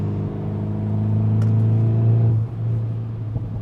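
A VW T-Roc R engine revs in a sustained, loud humming drone that holds steady, then drops off and resettles near the end, heard up close with no talk.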